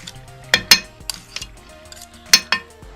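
A knife scrapes sticky sabooni halwa off the bottom of a pan, giving a few sharp metallic clinks and scrapes in irregular bursts at close range, with no talking.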